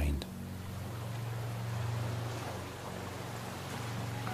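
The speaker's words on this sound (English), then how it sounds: "Allowing the sound of the waves to calm your mind." Ocean waves as a steady, soft, continuous wash of surf with a low drone beneath, under calm background music.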